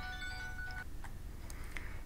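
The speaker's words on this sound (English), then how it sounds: "that was my phone." A phone ringing or beeping nearby with a melodic tonal ring for under a second, then a few short electronic chirps and blips over a low rumbling background.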